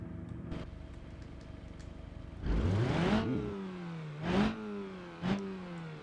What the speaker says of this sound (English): Nice little grunt on the engine.